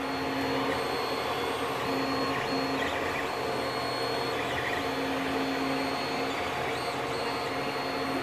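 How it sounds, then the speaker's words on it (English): Creality Ender 3 3D printer running Th3d unified firmware while printing a Raspberry Pi 3 case: a steady, close mechanical drone with whirring stepper motor tones that shift pitch as the head moves, continuous and alone. "Here we've got the Ender 3 printing a Raspberry Pi"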